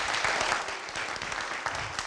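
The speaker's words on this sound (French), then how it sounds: "On va les ovationner une fois de plus." Studio audience applauding the jury at a French TV show, steady dense clapping filling the whole stretch at moderate loudness, with no voices over it.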